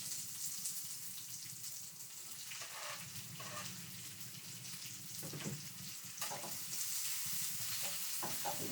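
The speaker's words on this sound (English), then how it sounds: "now I'm going to add the onions" Chopped onions frying in a hot pan for escovitch snapper give a steady, moderately quiet sizzle and hiss, with soft stirring scrapes and brief bursts of crackle. No one speaks.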